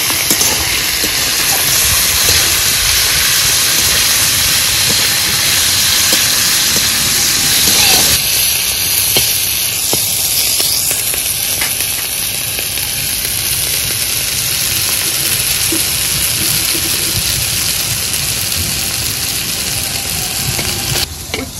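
Bitter gourd frying in oil with salt and turmeric, a loud dense sizzle and hiss held close throughout, with occasional scraping stirs.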